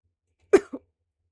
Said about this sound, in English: someone coughs.